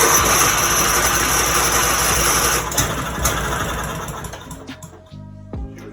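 A lawn mower engine with a brand new starter cranks steadily and loudly without catching, a dense continuous churn that breaks off near the end into a few short, uneven bursts.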